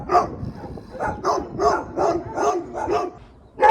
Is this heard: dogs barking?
yes